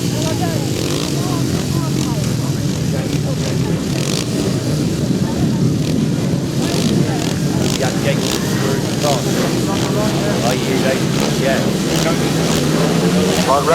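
500cc solo grasstrack racing motorcycles rev loudly and continuously at a race meeting, a dense engine roar under an announcer's commentary.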